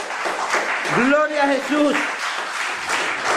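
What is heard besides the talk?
applause in church service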